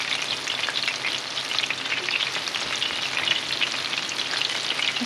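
Battered shrimp frying in hot oil, a steady, dense sizzle and crackle that fills the whole stretch without pause and with no voices.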